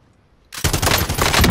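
Gunfire in the video game Call of Duty Warzone on Rebirth Island: silence, then a sudden loud, close burst of rapid automatic shots that keeps rattling densely to the end.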